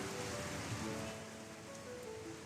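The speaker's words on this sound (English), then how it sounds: "the rain has really picked up." Heavy rain pouring in the visual novel IxSHE Tell, a loud, steady, close hiss of falling water throughout, with a faint tonal hum beneath it.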